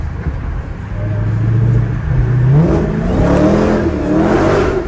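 A 700-horsepower Dodge Challenger Hellcat engine rumbles low and then revs up, its pitch rising and holding in a loud, throaty roar.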